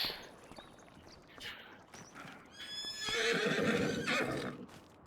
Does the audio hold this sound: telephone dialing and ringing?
no